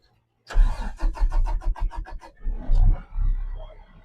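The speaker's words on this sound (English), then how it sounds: "let's get this baby turned on, because without it being on, none of the controls will work." A concrete mixer truck engine cranks with a rapid rhythmic chug of the starter, then catches and settles into a rough, loud idle, close to the microphone.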